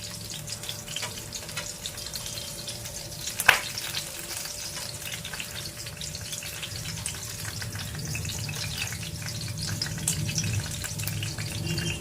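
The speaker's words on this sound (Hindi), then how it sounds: "इनको एक चिमटे की मदद से ऐसे पलट देते हैं इस तरह से।" Drumstick (sahijan) pieces fry over a low gas flame in a steady, continuous sizzle, with one sharp click midway as tongs turn a piece.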